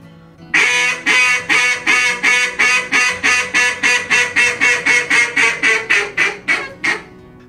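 Buck Gardner Swap Meat acrylic duck call blown loudly for reach: a long fast run of about twenty close, bright quacks that quicken slightly toward the end, alone without talk.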